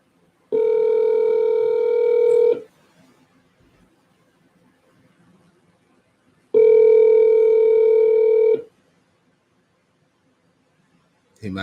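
A telephone ringback tone sounds twice while a call connects, each ring a steady tone lasting about two seconds and separated by several seconds of near silence, clear and close.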